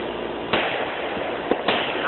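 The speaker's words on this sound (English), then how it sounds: "We're watching the pretty fireworks together." Fourth of July fireworks going off, a few muffled distant bangs and pops spread over two seconds amid background voices and outdoor noise.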